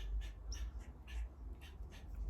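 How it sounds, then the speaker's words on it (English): Birds call outside an open window during a makeup session, a series of squawky, chirping calls, some quacking or cawing, repeating through the moment at moderate distance over low room rumble. "My window's open so you hear the birds."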